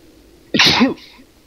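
A single sharp sneeze, loud and close, followed by a brief quiet breathy tail.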